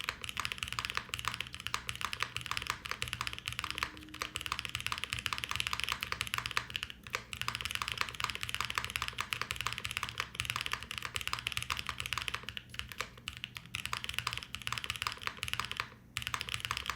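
Fast, continuous typing on The Transition TKL mechanical keyboard, a dense run of close clacky keystrokes with only brief gaps.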